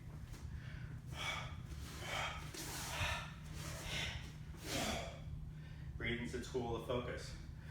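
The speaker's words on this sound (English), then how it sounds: "Just by the breathing, you know," Heavy, rhythmic breaths during a breathing exercise, a series of loud inhales and exhales repeating every second or so close to the microphone over a steady low hum, ending in a few quick, catchy gasps.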